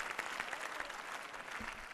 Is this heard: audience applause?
yes